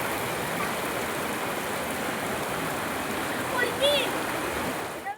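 Clear stream water flows steadily as a constant broadband rush close to the microphone, with a brief higher splash or chirp near the end.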